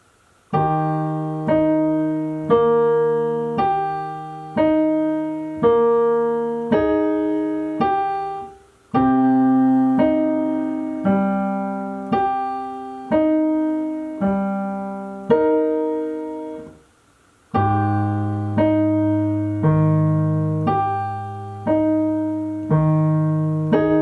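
Piano played with both hands: steady repeated chords over low bass notes in a slow, even rhythm, clear and close with brief pauses between phrases.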